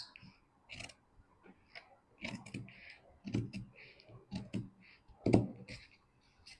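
Scissors snip through slippery fabric to cut a shirt collar, close sharp clicks at an uneven pace with small rustles between cuts.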